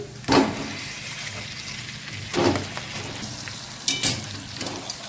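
Fish pieces dropped into a hot pan with turmeric sizzle and fry, with three sharp bursts of spitting, crackling oil over a steady background hiss.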